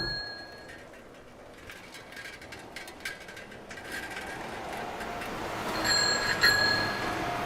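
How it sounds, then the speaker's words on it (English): Bicycle bells ring a few times, clear high dings rising out of a low outdoor background of traffic hum in a small township in Jaffna, growing busier toward the end. "The most you will hear is bicycle bells."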